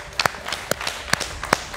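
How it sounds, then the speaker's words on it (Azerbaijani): Scattered handclaps welcome a martyr's child at an emotional gathering, a few sharp separate claps spaced irregularly across a short moment, close and fairly loud, with no voices. "Şəhid evladı alqışla qarşılanar."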